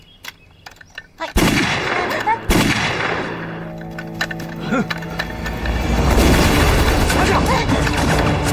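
Loud gunfire and booming blasts from a battle scene in a Chinese anti-Japanese war film, with sharp shots followed by sustained heavy firing and explosions; shouting voices come through amid the din.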